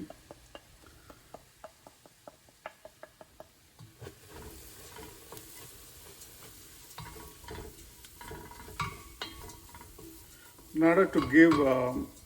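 Chettinad chicken spice mix fries in oil, a soft sizzle under scattered stirring clicks and spoon taps against the pan, ending in a louder burst of scraping and stirring near the close.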